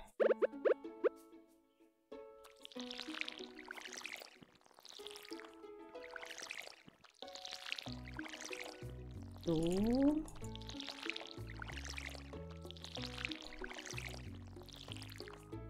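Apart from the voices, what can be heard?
watering crops with watering can in video game Stardew Valley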